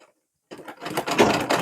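A sewing machine stitching a suit starts up after a brief pause and runs in a fast, close mechanical whir.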